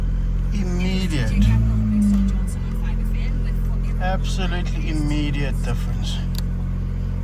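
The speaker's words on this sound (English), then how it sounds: "No more vibration through the car, it's idling smooth." Revived Fiat 500 engine idling close by with a steady, even low rumble that holds throughout, while someone talks over it.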